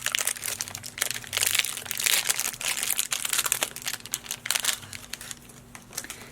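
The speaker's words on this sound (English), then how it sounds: "You want to unwrap the swab stick from individually wrapped package." A swab stick for a saliva test being unwrapped from its individual plastic package, with continuous close crinkling and crackling of plastic wrap throughout and no talk.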